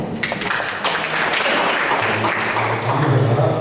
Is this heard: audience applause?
yes